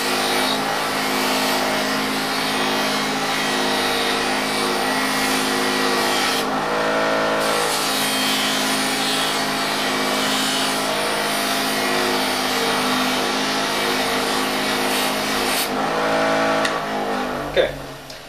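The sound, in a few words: fine wire wheel cleaning a soldered steel glove blade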